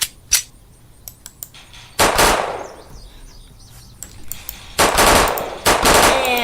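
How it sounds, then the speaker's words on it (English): A German Mauser machine pistol fires in a video game, with sharp isolated shots and short bursts spread out between quieter gaps, loud and close, with some metallic clatter. "It's a German machine pistol chambered in Mauser ammunition."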